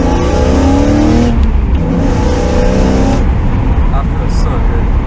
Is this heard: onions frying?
no